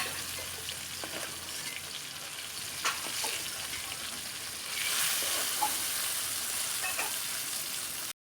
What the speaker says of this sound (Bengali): বেগুনটা ভালো করে ভেজে নিয়েছে।